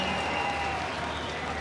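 Steady applause from a large crowd at a political party rally, the Mahanadu convention in 2018, a dense even clatter of many hands that stays loud and continuous throughout.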